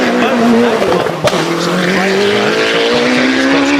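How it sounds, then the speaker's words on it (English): At the Shelsley Walsh hill climb, a race car blasts past close and loud with a high sustained engine note and a brief tyre squeal, while a commentator talks over it. "that car is straight up the middle of the track"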